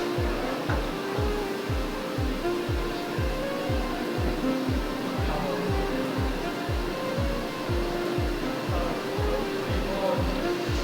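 A CNC machine dimples metal with coolant flowing, giving a steady rushing hiss. Regular low thumps pulse underneath at about two per second, fairly near and moderate in volume.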